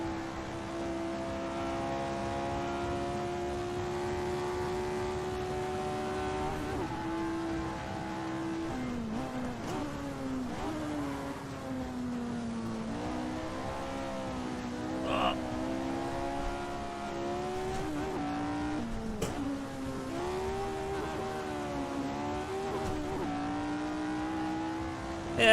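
A race car in the Assetto Corsa sim accelerates and revs through the gears, its engine tone climbing and dropping at each shift, steady and fairly loud with no talking.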